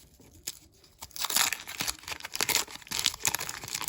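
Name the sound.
tearing open a 1989 Topps baseball card pack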